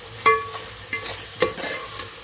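Spices frying in a pan for a biryani are stirred, a spoon clacking against the pan three or four times over a soft, continuous sizzle, close up and with no voices.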